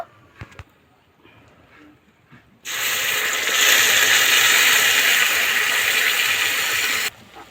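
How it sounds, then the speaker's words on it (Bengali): Spice paste hits hot oil in a pan, bursting into a loud, steady hiss of sizzling that starts abruptly after a few quiet seconds of faint clatter and cuts off near the end. "এবার আমি যে মশলার পেস্টটা বানিয়ে রেখেছিলাম দিয়ে দেব"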